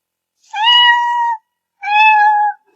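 A cat meows twice, two loud close drawn-out calls separated by a short pause, with nothing else around them.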